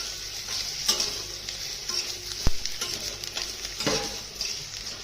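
Green eggplant masala with turmeric, red chili and black masala sizzles in a pan while a spoon stirs it, scraping and clinking now and then over the steady frying hiss, close and fairly quiet.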